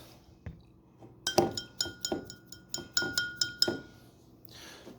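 Ice clinks against a glass of soda in a quick series of bright, sharp taps, about eight in a row at an even rhythm, close and clear with no talking.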